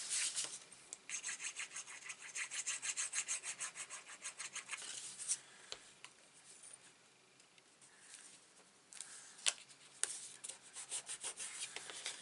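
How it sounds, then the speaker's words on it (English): A glued paper advent calendar box rubbed down firmly by hand, producing a steady run of soft rhythmic scraping strokes close by, then a few slower, more scattered rubs. "I always push the other way as well, just to make sure I'm giving it a good rub down"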